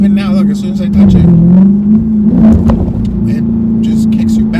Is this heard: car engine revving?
yes